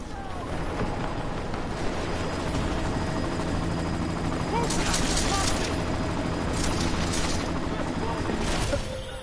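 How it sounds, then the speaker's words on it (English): A helicopter in the video game Deus Ex: Mankind Divided, a dense steady rotor-and-engine roar filling the scene, with sharp bursts like gunfire or impacts cutting through midway and near the end. "You've got to stop that chopper."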